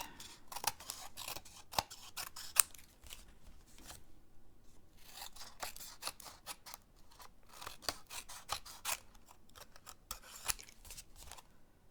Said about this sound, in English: you just take your snips and you give it a haircut